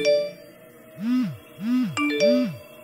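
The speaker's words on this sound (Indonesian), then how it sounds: "Kuring kageuing ku HP anu ngageter. Bari aya notifikasi anu asup." A phone notification chime plays a series of three bright, swooping electronic tones over sustained ringing notes, loud and close, with no voices.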